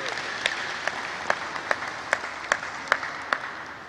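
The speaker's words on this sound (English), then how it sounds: "Please give a round of applause." An audience at a talk on vision and purpose claps steadily, a moderate wash of applause punctuated by regular, evenly spaced sharper claps, with no voices over it.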